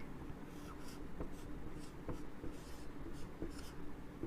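Chalk or marker writing on a board during a maths lesson, a quiet, close sequence of scratchy strokes and light taps in an irregular rhythm, with no speech.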